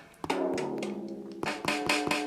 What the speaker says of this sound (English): now what we've got is the Korg Nano key plugged in through this tangle of wire